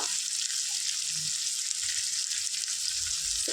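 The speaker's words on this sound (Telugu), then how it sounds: "ఈ విధంగా ఫ్రై చేసుకుంటే పీస్ చాలా టేస్ట్గా ఉంటుంది" Chicken pieces fry with masala and chili powder in a Telangana-style chicken curry, giving a steady, dense sizzle throughout with faint low clinks of stirring and no voices.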